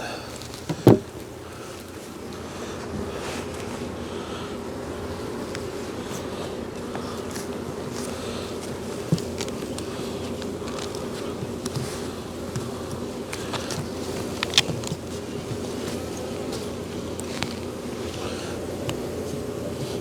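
A swarm of honeybees that has newly moved into a wall cavity buzzes steadily during a hive cutout, a continuous close drone with a few sharp knocks and clicks.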